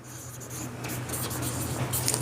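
Pen writing out a maths solution during a class 10 lesson on linear equations, a continuous close scratching and rubbing on paper over a low steady hum, with no talk.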